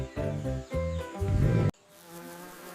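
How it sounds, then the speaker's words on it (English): A bee buzzes loudly and continuously in a children's mystery-sound guessing game, then cuts off abruptly, leaving a quieter hum behind. "It's a bee."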